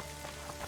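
Steady rain falling in the fantasy video game The Witcher 2, a dense continuous patter at even level with no distinct drops standing out and no speech.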